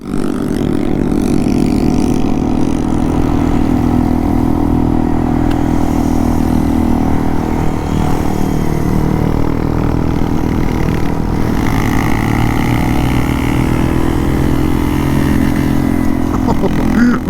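A Honda Monkey 125 motorcycle ridden along a mountain road, its engine droning loud and continuous close by, with pitch rising and falling as the rider shifts through the gears.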